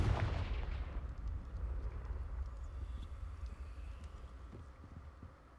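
Bombarda and Confringo spell explosions in the video game Hogwarts Legacy: a loud, booming blast at the start with a crackling burst that trails off into a rumbling, windy tail.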